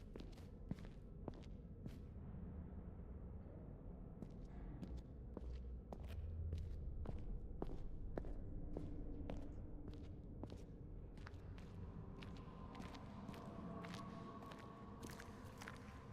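Quick, evenly spaced footsteps of a character sprinting in a video game, a steady run of sharp thuds close up over a low ambient game backdrop, with no talk.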